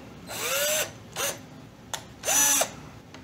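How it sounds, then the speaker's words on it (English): A power drill bores holes into a plastic Halloween costume pack in three short whirring bursts with pauses between them, close and loud. "You just want to drill out wherever those two holes"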